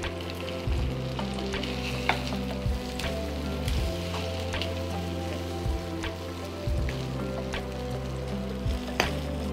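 Chicken tikka sizzling in a pan, a steady crackling fry with scattered sharp pops and periodic stirring scrapes and thumps, close and moderately loud.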